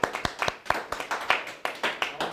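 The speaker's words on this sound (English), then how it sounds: "Did we clap for y'all already?" A small group of classmates claps for fellow students after a presentation, a loose cluster of sharp, uneven hand claps over a couple of seconds, close and moderately loud, with a faint voice underneath.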